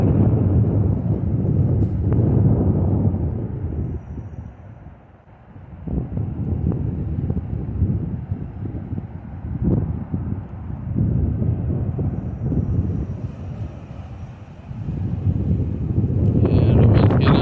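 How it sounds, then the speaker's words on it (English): Strong wind gusting by the railway tracks, a heavy low roar of buffeting against the microphone that surges and dips, with someone talking at times. "And the wind's getting out of control again."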